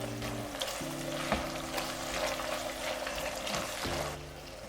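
Coriander and garlic fry in a pan with onions and tomato, giving a steady close sizzle with some stirring scrapes and brief clinks.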